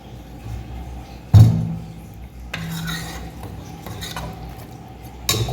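A spoon stirs bottle gourd mutton gravy with added water in a metal pot, making a sharp clank early on, then scattered scraping and light knocks against the pot over quiet background hiss.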